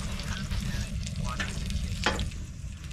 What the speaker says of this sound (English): now I'm just gonna cook it in a pot of boiling water